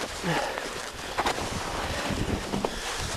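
Cold wind blows across a snowy hill, rushing and buffeting steadily against the microphone, with a voice talking over it.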